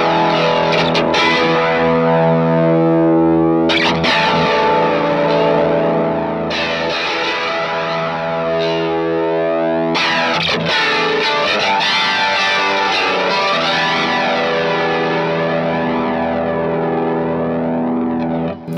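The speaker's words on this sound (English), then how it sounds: "Here's the distortion channel in the amp." Heavily distorted electric guitar playing sustained, saturated chords and notes through an overdriven amp, loud and continuous with a few brief breaks between phrases.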